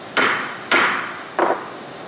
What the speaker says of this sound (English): Don't make me laugh, I'm hammering.